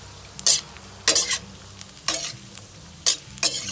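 Pork fries in a pan over low heat, with a faint sizzle beneath several distinct scraping strokes as it is stirred, close and alone without voices.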